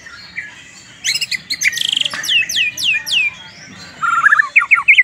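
A songbird, kept on daily cricket feed, sings close and loud with rapid bursts of sharp chirps, descending whistled notes and quick trills in phrases across several seconds, with no talk over it.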